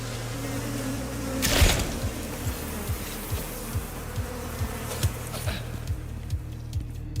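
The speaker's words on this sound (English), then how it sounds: "I think I hear more bees." Bees in the survival video game Icarus give a steady, low, droning buzz at moderate distance, with soft regular pulses that repeat roughly every half second after one louder swell.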